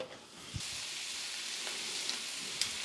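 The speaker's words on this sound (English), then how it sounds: "had to chop up more fat and render it out" Beef fat rendering in a hot pan for tallow gives a steady, close broadband sizzle and hiss throughout, with a few brief pops and clinks on top.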